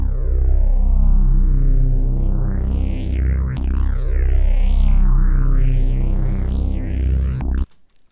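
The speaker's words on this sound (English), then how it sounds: "I've got some filter automation. I've got some distortion. And I've got a phaser." A loud, sustained synthesizer tone in Renoise with distortion, a phaser and sweeping filter automation that rises and falls in repeated waves, cutting off abruptly near the end.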